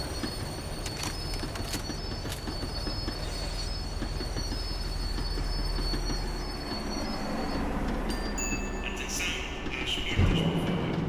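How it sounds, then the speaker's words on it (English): A tram in Max Payne 3 slows down with screeching wheel squeal and rail rumble, a continuous loud rolling drone under high metallic whines that shift as it brakes, with a bump near the end. "The tram was slowing down, and I'd only just gotten on board."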